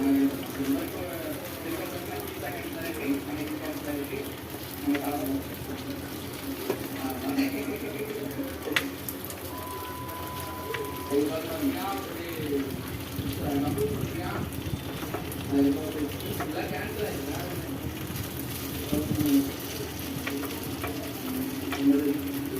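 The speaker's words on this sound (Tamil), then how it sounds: "இந்த எண்ணெயிலேயே நம்ம சுட்டு எடுத்துக்கலாம்." Healthy white chickpea kuli paniyaram frying in oil in a paniyaram pan: a steady crackling sizzle continues throughout, with a voice talking over it.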